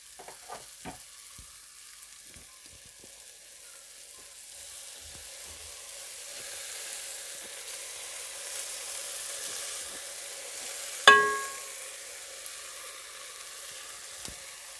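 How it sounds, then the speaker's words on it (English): Soy sauce sizzling in a beef pilau pot, a soft hiss that builds steadily, with a few light stirring taps and one sharp clink of a utensil against the pot near the end. "at this point I'm just going to add in my soy sauce"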